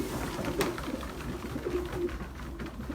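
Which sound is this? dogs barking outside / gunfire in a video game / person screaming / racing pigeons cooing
racing pigeons cooing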